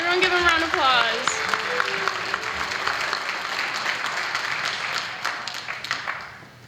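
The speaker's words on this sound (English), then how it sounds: "Everyone give them a round of applause." An audience at a family program applauds dance performers with a broad, steady wash of clapping that tapers at the end, after a brief burst of a voice at the start.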